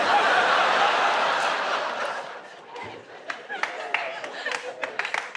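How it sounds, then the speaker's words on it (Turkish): Studio audience clapping at a Turkish TV comedy talk show, a dense sustained applause that thins out into scattered individual claps and laughter toward the end. "Dur, dur, alkışlamayın."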